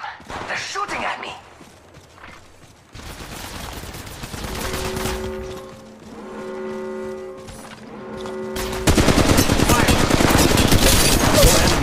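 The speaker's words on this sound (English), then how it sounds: "They're shooting at me." Gunfire in the mobile battle royale game Apex Legends Mobile: rapid bursts of automatic fire and dense shooting that swell to a loud continuous barrage near the end, mixed with tonal game sounds and a speaking voice.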